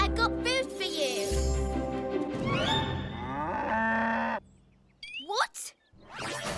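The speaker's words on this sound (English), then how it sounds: "How do you moo?" A cartoon cow gives long, loud, close moos, then shorter bellows after a brief pause, with a bright ding mixed in and lively music behind.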